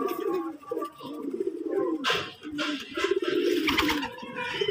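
Domestic pigeons of fancy breeds such as Murshidabadi Gibaz, Madrasi and Kaldoma coo close by in a loft just after feeding, with deep repeated rolling coos overlapping one another and brief wing flutters mixed in.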